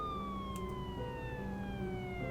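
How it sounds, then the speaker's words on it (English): Police sirens in a video game wail and sweep slowly downward in pitch, steady and moderately loud, with a low rumble underneath and no voices. "lights flaring and sirens blaring."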